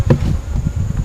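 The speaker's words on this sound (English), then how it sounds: "Found the bees." Honeybees buzz inside an opened hive on a farm as winter bees develop, a low, loud, close hum swelling in uneven pulses.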